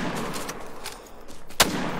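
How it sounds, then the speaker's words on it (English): A single sharp rifle shot from a .30-06 in a hunting video game cracks out loudly near the end, preceded by faint, scattered distant pops over low background noise. "I don't know what that second shot was, but the third shot was pretty good"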